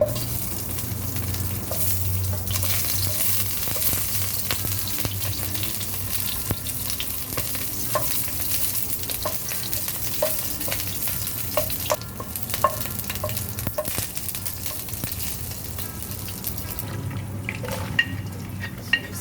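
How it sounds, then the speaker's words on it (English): Steady sizzling of lemongrass frying in hot oil for chicken sambal, with occasional stirring clinks and scrapes in the pan, continuous and moderately close. "Using the same oil, put the lemongrass in."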